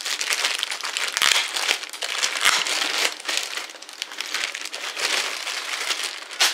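Plastic packaging crinkles and rustles close up as a Tascam US-122MK II audio interface is unwrapped, a steady, busy crumpling that lasts several seconds, with no talking.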